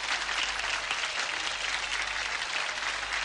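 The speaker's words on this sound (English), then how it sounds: "That Whoa. deserves a round of applause, doesn't it?" Steady, dense studio audience applause on a 1987 television talk show, loud and continuous with no voices over it.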